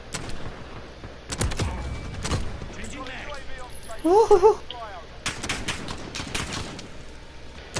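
Shooting video game gunfire, scattered sharp single shots and short bursts spaced across the stretch, with a player talking intermittently and some melodic game sounds in the middle.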